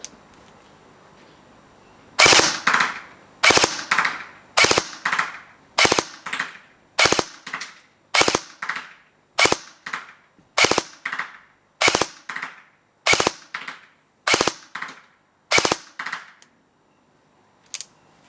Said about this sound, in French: Scorpion 30 mètres, full auto.